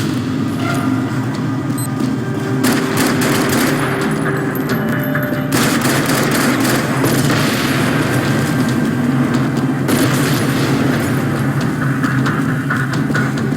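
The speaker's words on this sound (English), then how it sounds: "Another parking lot rattling with gunfire." Loud, continuous rattling gunfire with booms and bursts in a dense battle mix in a parking lot in the video game Max Payne 3, steady throughout with no pauses.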